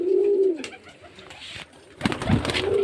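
Murshidabad Girbaz pigeons kept for sale at a home loft in Beldanga give repeated low, throaty coos, close and fairly loud, in a few rolling bursts with short quieter gaps between.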